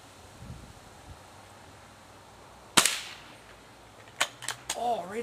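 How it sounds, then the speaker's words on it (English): A Beeman Model 1047 air rifle fires one sharp crack, followed a moment later by a few lighter clicks and rustles, outdoors with faint wind in the background. "we'll take four more shots"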